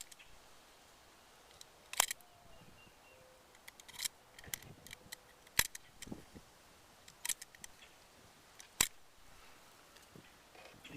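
Apple tree scion wood is cut for grafting with a sharp tool, giving a series of crisp, separate clicks and snips spread at irregular intervals over a quiet background.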